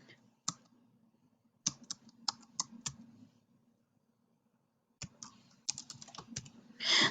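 Scattered keystrokes on a computer keyboard come as short, sharp clicks in small clusters, separated by quiet gaps, fairly close and alone without talk.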